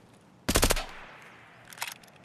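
Gunfire from a jamming gun in a video game: a short, loud rapid burst of shots, then a fainter second burst about a second later, with no talk.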